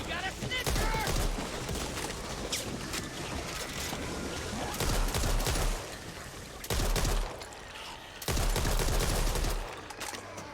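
Gunfire in the zombie shooter Back 4 Blood, with repeated bursts of rapid automatic shots in several clusters over busy game noise, fairly loud and close.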